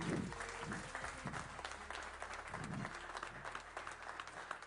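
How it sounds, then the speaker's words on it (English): Audience applause at an EU summit conference, a steady, moderately loud wash of clapping from a crowd, with a few voices faintly underneath. "So a round of applause"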